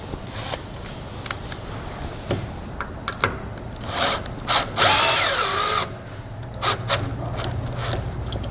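A power drill drives fasteners through a pre-drilled hole to mount a Bright Way trailer breakaway switch, giving a few short mechanical clicks and then a louder rising whir of the motor near the middle, with quieter taps around it.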